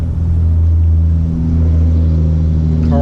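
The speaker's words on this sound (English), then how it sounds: "Car always starts nicely." Engine of a 1970 Porsche 911 T idles loudly and steadily up close, a deep throbbing rumble with a slight swell near the end.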